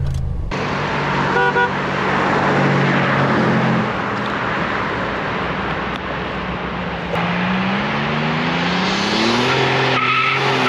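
A 1986 Buick Grand National's tires break loose in second gear with a loud, sustained squeal and skid over the roaring engine, and the pitch climbs near the end as the car pulls away.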